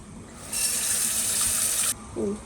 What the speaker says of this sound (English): it's easier if you put the pot on the sink and turn on the faucet